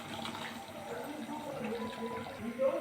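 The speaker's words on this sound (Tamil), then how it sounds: "நமக்கு தேவைக்கான தண்ணி கொஞ்சம் ஊற்றிக்கலாம்." Water poured into a pot of tomato paste while cooking chicken gravy rice: a steady, moderate splashing trickle that runs through the whole moment, with some background noise.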